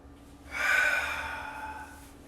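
One long, audible breath, likely an exhale, rushes out close to the mic during a TRX yoga flow, swelling quickly and then trailing off slowly against a quiet room.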